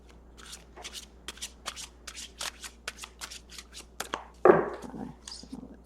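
Animal oracle cards, a deck of animal spirit cards, being shuffled by hand: a quick series of crisp riffling bursts that grows into a louder, fuller flurry near the end, close and clear with no talking.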